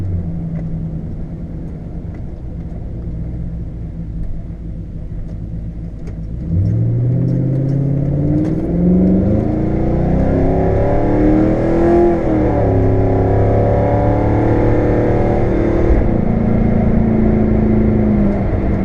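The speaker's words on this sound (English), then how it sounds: "the car shifts through each gear perfectly normal, just like you would expect with any automatic transmission" A car with an automatic transmission and a B&M Quicksilver ratchet shifter accelerates hard, the engine rumbling and rising in pitch, then dropping as it shifts up through each gear, loud and close throughout.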